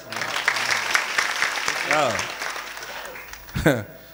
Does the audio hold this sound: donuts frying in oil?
no